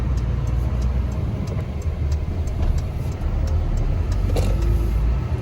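A 2022 UD Trucks Croner PKE 250 hp truck accelerates in first gear, heard from inside the cab as a steady engine drone and road rumble with light rattles. No one speaks.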